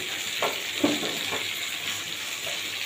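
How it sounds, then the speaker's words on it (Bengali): Tilapia curry with cauliflower and potato sautéing slowly in oil under a lid, with ginger and cumin in the pan, gives a steady, close hiss of sizzling with a few soft stirring knocks. "ঢাকা চাপা দিয়ে আমি সুন্দর করে আস্তে আস্তে কষিয়ে নেবো এটাকে।"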